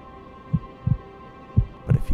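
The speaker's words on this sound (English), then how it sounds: "where the only sound you can hear is your own heartbeat." Slow, muffled heartbeat thumps, two pairs of low throbs over a quiet hum.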